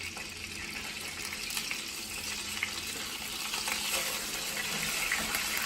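Salisbury steak fries in a pan with a steady, dense sizzle, close and continuous, with faint crackles and a slight swell partway through.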